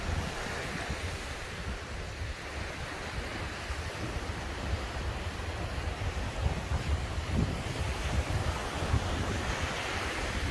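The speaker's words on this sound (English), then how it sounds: "Alright, so we're on the beach in Moruga now." Waves wash onto the beach at Moruga at low tide while wind buffets the microphone, a steady roaring surf that rises slightly toward the end.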